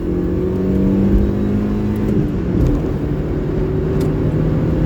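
Car engine droning loud and close, its steady tones falling and then rising again as the driver shifts into third gear, with a continuous rough whir throughout and no talking.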